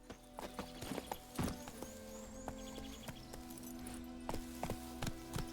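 Roach, the horse in The Witcher 3, trotting with clear hoof clip-clops in uneven bursts over a steady ambient hum, near and moderately loud, no voices.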